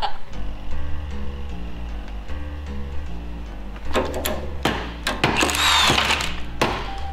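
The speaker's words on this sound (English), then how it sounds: "Drill a hole. Drill a hole. Yeah, put an access hole." A power drill bores an access hole through plastic under a Supercharged Bronco II, a steady motor drone followed by louder rattling, crunching bursts as it cuts through, up close.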